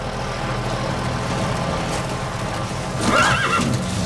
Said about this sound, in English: Just a lonely horse.